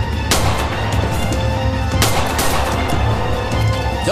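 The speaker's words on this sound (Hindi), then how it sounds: "अभी गोली चलने की आवाज सुनी है" Gunfire in a dubbed drama scene, a couple of sharp reports standing out over a dense, rumbling background, with no talking.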